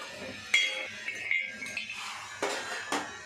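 Walnuts tipped into a pan where almonds are dry-roasting, giving a few scattered, faint clinks and taps of nuts against metal over a low background hum.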